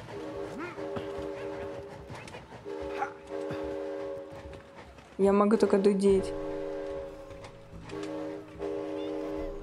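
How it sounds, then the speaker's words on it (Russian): A train with a loud horn blast in the video game It Takes Two, the horn rising sharply midway and sustained for about a second, with players talking over it before and after. "тут поезд, поезд, поезд"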